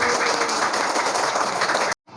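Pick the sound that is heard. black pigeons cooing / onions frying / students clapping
students clapping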